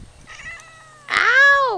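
A grumpy Ragdoll kitten meows, first with a faint, thin cry and then with a loud, drawn-out complaint close by.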